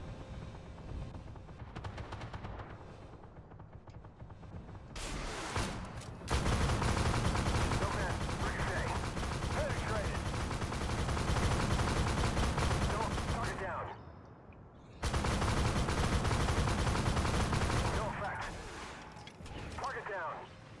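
Missiles and guns fire from a T-15 tank in Armored Warfare, loud sustained bursts of launches and blasts in two long stretches, with a short lull between them and quieter rumble before, under occasional talk.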